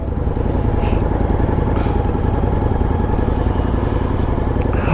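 Several motorcycles rumble past without a break, a dense, loud engine roar that stays steady throughout, with no talk.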